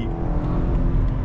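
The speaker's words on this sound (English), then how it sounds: "Yeah, them shifts is crazy, man." A BMW X5M with a Stage 2 tune and stock engine, shifting in automatic mode, gives a loud, close, continuous engine drone as it accelerates through the gears.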